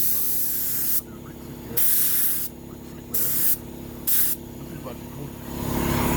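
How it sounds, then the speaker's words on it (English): Spray gun applying a lacquer coat over a smart repair on a cracked rear car bumper, in four short, sharp hissing bursts separated by quieter gaps. "So for the lacquer, what I always like to do is a coat on way up on the repair."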